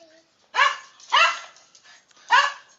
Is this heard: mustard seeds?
no